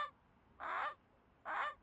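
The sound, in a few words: person imitating a Canada goose call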